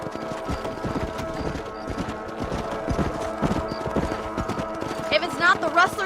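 A horse gallops in the video game Red Dead Redemption, with rapid, rhythmic clip-clop hoofbeats throughout and a snort or whinny near the end, over game background sounds.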